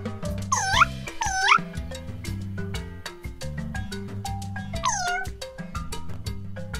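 A cat gives three drawn-out, rising-then-falling meows, two close together and one a few seconds later, over steady background music.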